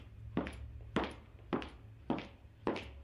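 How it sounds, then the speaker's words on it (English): Video game footsteps on a hardwood floor: five dull, hollow thuds at an even walking pace, each about half a second apart, fairly faint over a low steady hum, with no talking. "Those are some hardwood floor noises, considering I'm outside."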